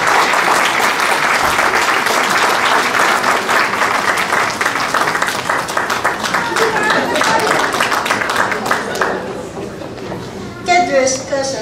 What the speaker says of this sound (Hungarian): Köszöntsük őket nagy tapssal!